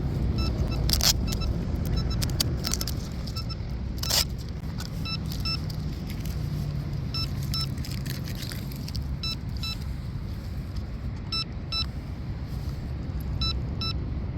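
A DIY shrimp rigger RC boat on a 4S lipo runs at full speed, its electric motor giving a steady, sustained whine from start to finish, with a few sharp clicks near the beginning.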